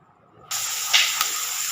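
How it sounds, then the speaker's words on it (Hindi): Two finely chopped onions hit hot oil in a pan for a keema dish, bursting into a sudden loud hiss and sizzle that continues steadily after a quiet start. "अब मैंने जो 2 प्याज बारीक बारीक चॉप करके रखी हुई थी वो हम इसके अंदर डाल के इसको ब्राउन कर लेंगे।"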